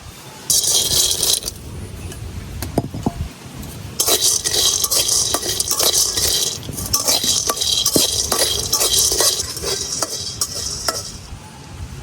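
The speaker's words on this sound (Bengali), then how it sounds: "এখন বাদাম গুলারে হালকা আরেকটু বাজ্যা নিলাম।" Hard little peanuts rattle and skitter across a hot dry pan as they are stirred while dry roasting, a loud continuous scraping clatter with brief pauses.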